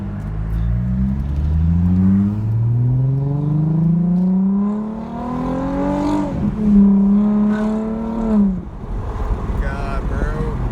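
A VQ-style car engine revving as it accelerates on a road with the windows down, several rising pulls up through the gears, loud and close with wind rush around it.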